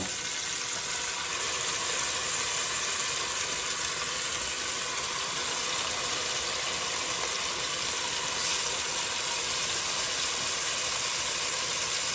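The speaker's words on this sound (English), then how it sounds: "I don't know if you guys are gonna be able to hear me over that sizzling beef" A steady, dense hiss of beef for birria tacos sizzling in a hot pan fills the clip, close and constant with no talking.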